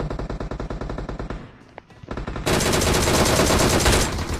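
Automatic gunfire in the mobile shooter BGMI rattles in rapid bursts, breaks off briefly, then resumes as a dense, loud, continuous volley.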